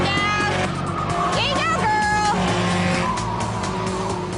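A race car drives on a road course during a race, a loud close engine roar with whining pitch sweeps and some tire squeal, under a voice speaking.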